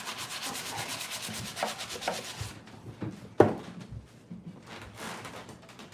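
Sanding a wooden lath slat crate by hand, a close, steady rasping rub in repeated back-and-forth strokes that pauses midway after a sharp knock, then resumes more faintly.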